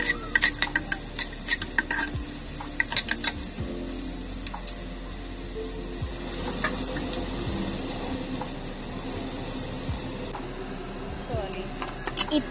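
Cut onions sizzle in hot oil with dal, curry leaves and dried red chillies while a spoon stirs and clinks against the pan in sharp, irregular strikes, close by, with some voice present.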